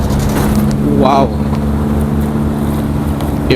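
A motorcycle rides along a road while overtaking a truck, with loud steady wind and engine rumble close to the rider, a brief rising tone mid-way, and a person talking over it.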